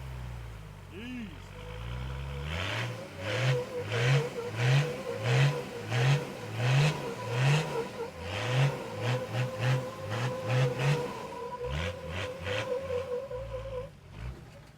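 A 4WD engine labours on a steep off-road climb, growling steadily with rhythmic pulsing as the revs rise and fall while the tyres fight for traction. Someone talks over it intermittently.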